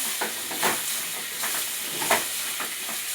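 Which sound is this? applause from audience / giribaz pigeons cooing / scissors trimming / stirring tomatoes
stirring tomatoes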